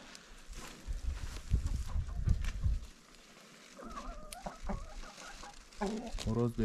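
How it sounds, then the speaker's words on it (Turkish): Farmyard chickens cluck in short bursts near the end after a stretch of rustling and low handling noise, close and moderately loud at a village livestock farm. "Evet, tavuklar."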